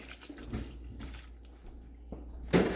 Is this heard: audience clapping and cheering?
no